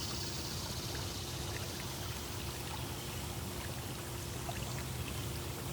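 A spigot runs a steady stream of fresh water into a tiger's pool at a big cat rescue, pouring constantly with an even, unbroken splash and no talk.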